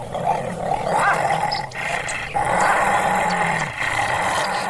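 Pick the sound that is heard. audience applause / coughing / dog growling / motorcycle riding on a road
dog growling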